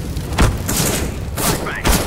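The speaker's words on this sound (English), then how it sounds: "Deploying flashbang." Flashbang grenade going off in a CS:GO match during a professional Grand Final, heard as a few dull thumps and bursts amid game noise and constant player callouts.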